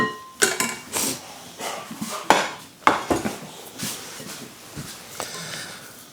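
Dough for low-carb, gluten-free keto cinnamon rolls worked by hand in a bowl, giving irregular sticky slaps, squelches and knocks against the bowl, with a few sharper clanks between softer kneading sounds.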